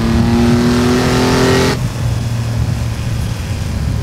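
Car engine revving in a racing video game, a loud rising whine held steady that then drops off sharply into a lower, rougher engine drone, with no voices.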